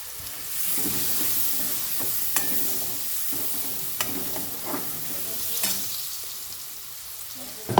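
Tomatoes fry in a pan for a mutton dish, giving a continuous close sizzle broken by sharp spatula clacks and stirring scrapes at irregular intervals, with no one talking.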